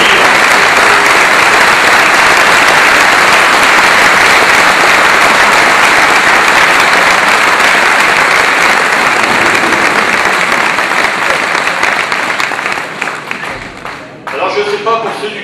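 A packed hall applauds two visiting Québécois guests at a dairy-farmers' gathering in Vire, loud, dense clapping that holds steady before thinning out, followed by a voice.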